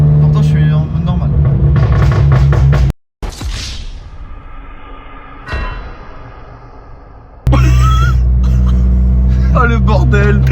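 Abarth 595 Turismo with a stage 2 tune crackling and popping from the exhaust on throttle lift-off, sharp bangs over a loud in-cabin engine drone, with people talking throughout.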